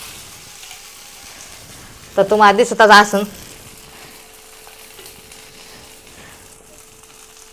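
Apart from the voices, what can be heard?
fasting dosa cooking on a griddle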